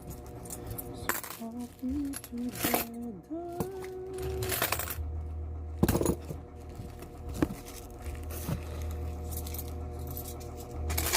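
Coins dropping and clinking together in several bursts over a steady low hum, close and moderately loud, with short metallic jingles spread across the stretch.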